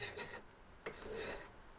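Two scraping strokes of a rasp across the wooden sole of a small hand plane, coarse and close, separated by a short pause.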